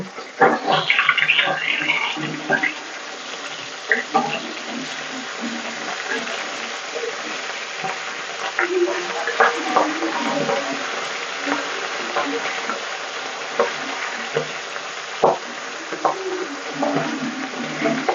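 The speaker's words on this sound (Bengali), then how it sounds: "মাছগুলো ভালো করে ভেজে নিই" Pabda fish fry in a pan for a mustard pabda recipe, a soft steady crackle and sizzle with occasional stirring and turning sounds, and a voice talking now and then over it.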